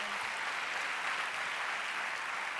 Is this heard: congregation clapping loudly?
yes